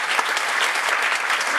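Steady audience applause at a comedy gig in Sweden, a dense, continuous clapping from a crowd filling the room at close range without pause.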